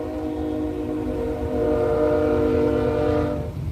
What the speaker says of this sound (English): And they got a train coming by again.